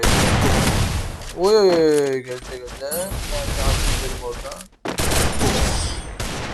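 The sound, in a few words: gunfire in Free Fire video game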